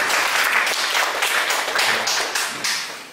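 An audience at an academic symposium gives warm applause, a dense and steady burst of many hands clapping together that carries through the whole stretch and eases off slightly at the end.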